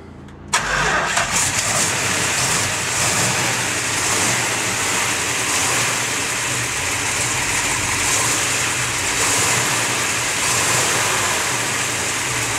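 A 1967 Plymouth GTX with a transplanted Hemi V8 cranks and fires about half a second in, then settles into a loud, steady, deep idle that rumbles on close by with no talking.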